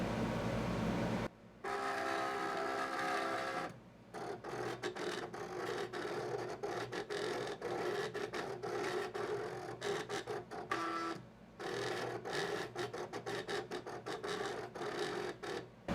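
A Cricut Expression 2 cutting machine cuts a silver layer on a mat with a steady mechanical whir, broken by rapid ticking movements and short pauses, close and moderately quiet, with no talking.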